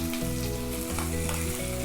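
Chopped onions sizzle steadily and close in hot sesame oil in a pan, a continuous loud frying crackle with no voices.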